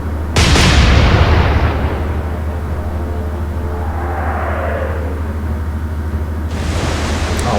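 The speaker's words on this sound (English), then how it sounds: "But let's open fire." Naval guns fire shells in the Atlantic Fleet video game: a loud booming blast, a long rumbling decay and a whistling shell, then a second blast near the end.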